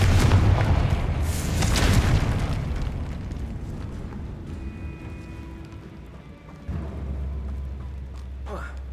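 A Confringo fire spell explodes in the Hogwarts Legacy video game: a loud, broad blast with a crackling burst over the first two seconds, fading into a low rumbling tail and game ambience.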